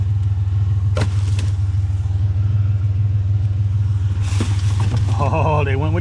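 A truck fitted with Flowmaster exhaust idles with a deep, loud, steady rumble close by, with brief revs and a voice talking near the end.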